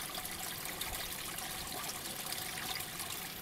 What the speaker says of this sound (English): Here, by the way, is the town drain, which is very busy this morning.